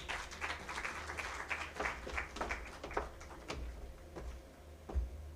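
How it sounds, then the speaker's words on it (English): Audience applause at a women's investment event, a quiet, fairly distant patter of clapping with a few sharper individual claps, fading toward the end. "Another round of applause for Allen."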